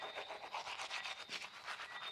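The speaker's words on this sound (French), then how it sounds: "je vous parle avec ma brosse à dents" Someone brushes their teeth with a toothbrush, giving a faint rhythmic scrubbing of quick strokes heard close up.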